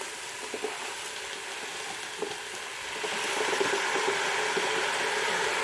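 Lentils, merguez sausages and carrots fry steadily in a pan, a continuous close hiss with scattered pops and small crackles that grows a little louder partway through, with no talking.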